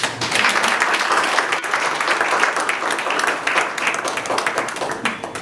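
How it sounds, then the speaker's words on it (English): A loud, close round of applause from a crowd at a Rwanda National Day event in Lusaka, Zambia, with dense, sustained clapping throughout. "Please give them just one round of applause."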